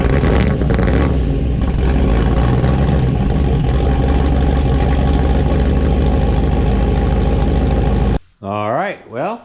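A small-block Chevy V8 swapped into a 4x4 Blazer rumbles loudly and continuously on its first drive, then cuts off near the end while a voice speaks.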